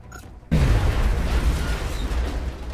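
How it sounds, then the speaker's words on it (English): A grenade goes off in XCOM Long War: after a brief quiet lead-in, a sudden loud blast erupts and rolls on as a sustained, heavy low rumble to the end. "Grenade out."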